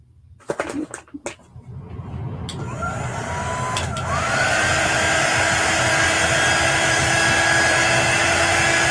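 After a few sharp clicks and knocks, a hair dryer starts up and runs as a steady, loud, close whoosh with a rising whine, drying chalk paste on a window swag banner.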